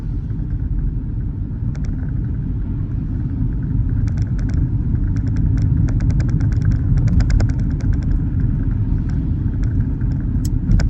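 A car driving along Peabody Road in the North Camp area of Farnborough, with a steady low road rumble and engine drone throughout and light clicks over it, heard from inside the cabin.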